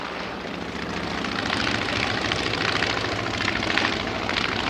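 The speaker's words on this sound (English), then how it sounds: "Here is the distinctive clatter of that polycarpop engine." Polikarpov aircraft engine at an evening air display, a loud continuous propeller-engine roar with a rough, clattering texture that swells slightly and holds steady, no voices.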